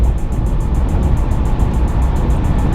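Ram 1500 pickup truck with a Procharger build cruising along, a loud steady engine and road drone heard from inside the cab with no break or change.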